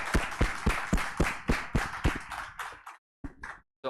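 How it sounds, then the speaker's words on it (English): Steady rhythmic clapping from a small class audience honoring a teacher at an online or classroom lecture, close and fairly loud, thinning out into a few scattered claps before stopping. "a big round of applause for his commitment and contribution."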